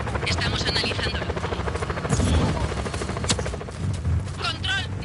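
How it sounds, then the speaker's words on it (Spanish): In the video game Just Cause 4, a helicopter's rotor thrums close and loud, mixed with bursts of rapid gunfire, while voices speak over the din. "Helicóptero aproximándose."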